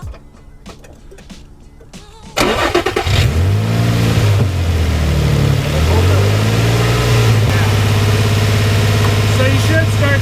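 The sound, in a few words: Nissan 350Z VQ35DE engine started and held at 2,000 RPM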